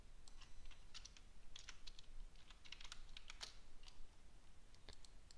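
Fingers type on a computer keyboard in a steady, irregular patter of light clicks and key taps, close and fairly quiet, continuing without talk.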